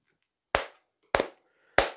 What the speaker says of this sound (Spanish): si quieres la tocamos con palmas